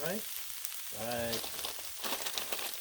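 Beef fried rice sizzles on a hot Blackstone flat-top griddle, a steady close-up hiss with crackling spatter that runs throughout, while a voice briefly speaks over it.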